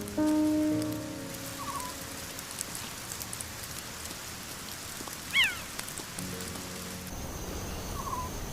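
Steady rain patters through an acacia forest in an even, close hiss, with a few faint bird calls and one brief, louder chirp partway through.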